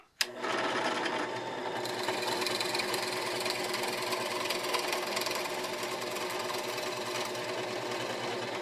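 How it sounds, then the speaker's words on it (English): A power drill whirs steadily after a sharp start click, a continuous high buzzing motor sound as it bores holes into wood, close up with no talking. "We'll drill the last 3 without going through."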